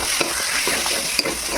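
Potatoes sauté in a hot pan with a continuous dense sizzle, with occasional stirring scrapes and light knocks from the spoon rising briefly above the frying.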